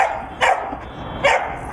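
Two sharp dog barks ring out about a second apart, fairly close and loud, at an outdoor obedience training session for a Cane Corso with other dogs around.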